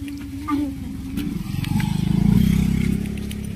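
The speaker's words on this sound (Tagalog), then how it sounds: "Ito na, motor." A motorcycle passes close by, its engine drone swelling louder toward a peak and then easing off, with voices faintly in the background.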